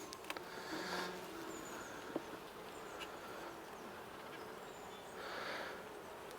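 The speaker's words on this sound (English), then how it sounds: "Plenty of bees in here." Honeybees in a Payne's 6-frame nuc box give off a faint, steady hum with a few brief louder buzzes as single bees pass close. Nobody speaks.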